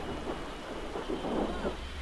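Rain and rumbling thunder in the video game Godhood, a steady downpour with a low, rolling rumble swelling underneath, heard alone without voices.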